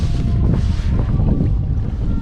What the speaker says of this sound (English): Man, the wind's picked up like crazy